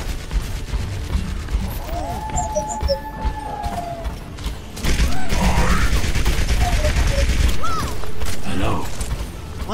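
Rapid auto rifle fire rattles in sustained bursts during an Overwatch match, alongside mechanical clicks and game effects, loudest in the second half of the stretch.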